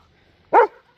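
A dog in a backyard garden with raised beds gives a single short, sharp bark at close range, with quiet surroundings before and after.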